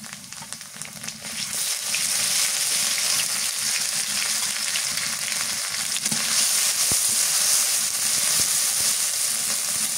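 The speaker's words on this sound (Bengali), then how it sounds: "পেঁয়াজ ভাজা হয়ে গেছে, রসুন আর আদা বাটা দিয়ে দিই" Onions frying with garlic and ginger paste for a fish curry, a loud, steady close sizzle with faint stirring scrapes, no voices.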